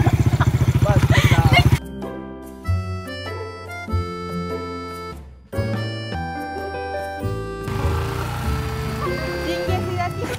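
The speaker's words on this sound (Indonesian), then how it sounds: "Ada orang bawa motor dia curi eh." A motorcycle engine buzzes loud and close for a couple of seconds on a university campus road before music takes over the rest of the stretch.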